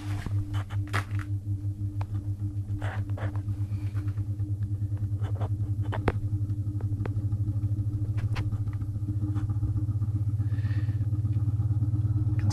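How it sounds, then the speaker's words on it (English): Electric motor spinning a 40 cm plywood disc on a homemade mechanical television, a steady close hum and whir that builds slightly in strength, with faint clicks and clatter over it. "Now I'm gonna power up the motor and see if we get to see the VB logo."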